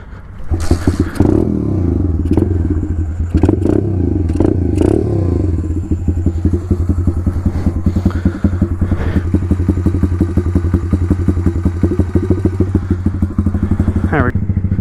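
A 125 pit bike motorcycle idles and rides on park trails, its engine putting out a close, steady rapid putter with revs, clatter and thumps, and no voices.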